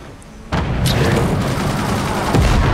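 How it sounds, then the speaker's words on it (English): A sudden burst of loud, dense gunfire and booming blasts in the video game Forts, including shotguns, continues as a rapid, chaotic barrage up close. "Why do I hear gunfire?"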